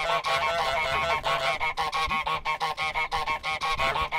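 Repeated loud goose honks from Untitled Goose Game, a rapid run of nasal calls close up with almost no gaps between them.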